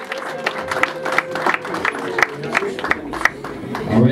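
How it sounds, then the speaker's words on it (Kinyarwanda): A crowd at a Rwandan family betrothal ceremony applauds warmly, with steady overlapping claps at moderate distance and light background voices throughout. "amashyi menshi ababyeyi bahoberana"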